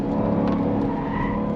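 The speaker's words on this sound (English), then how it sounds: "On the brakes, those massive Brembos." A 2024 Dodge Durango Hellcat SUV with large Brembo brakes stops hard. Its tires squeal and skid loudly over a droning engine, one continuous burst heard up close.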